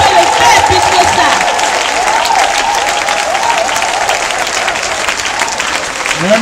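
Church congregation applauding steadily throughout, a dense, continuous wash of clapping at close range with crowd murmur and a voice or music tone running underneath.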